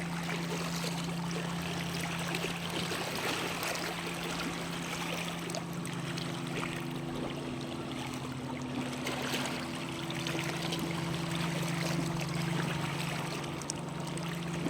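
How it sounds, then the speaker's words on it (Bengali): Water laps and rushes at Massanjore dam, a steady outdoor wash of waves with a low droning hum underneath, continuous and fairly loud with no talk. "খালি জলের, ড্যামের জলের যে আওয়াজ আর ঢেউ, সেইটা শোনানোর চেষ্টা করছি"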